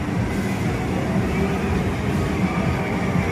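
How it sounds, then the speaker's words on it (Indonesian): Continuous rumbling and clattering from a children's ride train in a shopping mall play area in Banjarmasin, steady and fairly loud, with no voices. "Ada kereta api"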